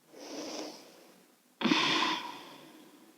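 Slow breathing during a gentle wrist stretch: a soft, quiet inhale followed by a stronger, breathy exhale, close to the mic, with no talking.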